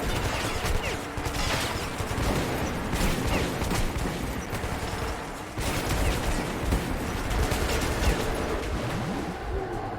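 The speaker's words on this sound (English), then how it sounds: "Jake, they're shooting me." Dense, continuous gunfire from enemies in the video game Metro 2033 Redux, heavy bursts and crashes filling the whole stretch with barely a pause.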